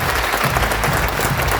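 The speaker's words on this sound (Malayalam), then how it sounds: "നല്ലൊരു കയ്യടി നിങ്ങൾ" A seated audience at a motivational talk breaks into loud, dense applause, a steady wash of many hands clapping close by with no pauses and no voices over it.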